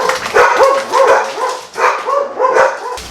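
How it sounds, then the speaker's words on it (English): A dog barks loudly and close by in a rapid series of sharp, repeated woofs with short pauses, and no one speaks. "how to get your dog to not go nuts when the doorbell rings"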